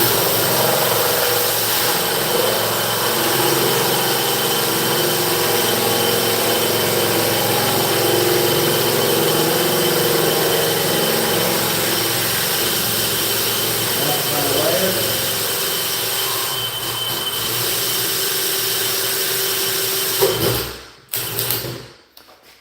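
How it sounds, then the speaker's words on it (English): A steady, loud drill whine boring into fiberglass during a Roman tub installation runs continuously for about twenty seconds, then cuts off abruptly with a few clunks at the end. "Fiberglass is a lot quieter to drill than wood is"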